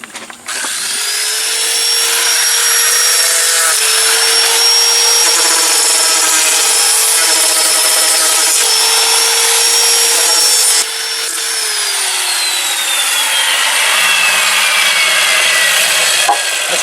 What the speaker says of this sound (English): let's run that hand grinder around there and nail them in